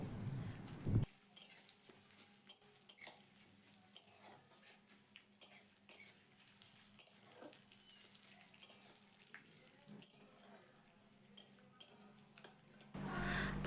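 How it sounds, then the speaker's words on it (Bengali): Spices with asafoetida frying in hot oil for South Indian sambar: a steady close sizzle with scattered clicks and scrapes of stirring, no voices, fading out at the end. "এখন সব কিছুকে তেলের সাথে খুব ভালো করে আমি ভেজে নেবো"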